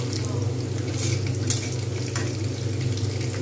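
Chicken pakora, marinated in oil, chilli and turmeric, fries in hot oil with a steady, close sizzle and crackle, a few faint stirring clinks breaking through, no voices.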